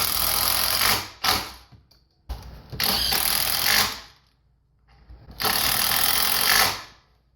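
A power driver screws a wooden bed frame leg into place in loud, whirring bursts of about a second each, with short silent gaps between them.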